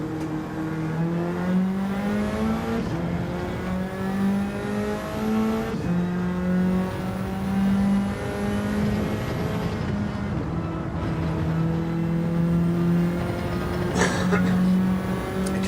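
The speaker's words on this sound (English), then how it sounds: "Proper racing car sound." A racing car engine screams at full revs in Gran Turismo 4, rising and dropping through repeated gear shifts over about fifteen seconds, steady and prominent with some background commentary mixed beneath.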